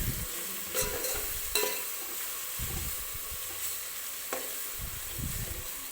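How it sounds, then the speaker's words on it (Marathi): Onion with ginger-garlic paste frying in a pan, a constant hiss of sizzling broken by repeated spatula scrapes and stirring knocks, close and steady throughout, without voices. "कांद्यासोबत हे भाजून घेते व्यवस्थित."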